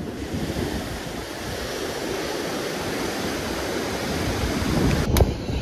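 Ocean surf rolling onto Digha beach, a broad steady roar of breaking waves mixed with wind buffeting the microphone, swelling slightly toward the end with a brief knock near the close.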